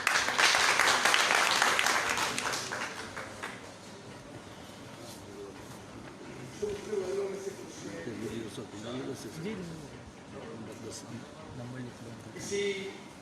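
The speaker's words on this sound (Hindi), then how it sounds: "भरपूर तालियों में" Applause from an audience at a lawyers' conference at the High Court Bar in Bhawalpur, fairly loud at first and then fading under a speaker's voice.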